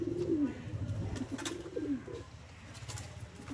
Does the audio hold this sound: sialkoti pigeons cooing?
yes